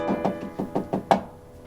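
Knuckles in gloves knocking on an apartment door: five firm, evenly spaced raps, the last one the loudest, then stillness. No voices.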